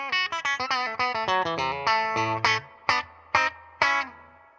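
A clean electric guitar through a Princeton Reverb amp with a Jensen speaker plays a quick run of bright plucked notes, then slower single hits that ring and decay with spaces between them.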